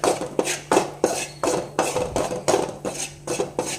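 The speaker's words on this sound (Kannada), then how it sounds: "ಈ ಮೈದಾ ಏನೈತಲ್ಲ ತುಪ್ಪದಾಗ ಚಂದಂಗೆ ಹುರಿಬೇಕು" Rhythmic metal-on-pan scraping and clinking as maida flour is stirred and roasted in ghee, about a dozen evenly spaced strokes, close and clear with no talk.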